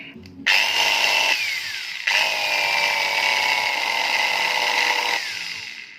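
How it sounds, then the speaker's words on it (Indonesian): An angle grinder runs loud and close, its high whine starting abruptly, dipping, restarting and holding steady before fading as the motor weakens and smokes; no talk over it. "Kalau teman-teman yang tahu fungsi gerinda ini harusnya kan putarannya makin kencang ya"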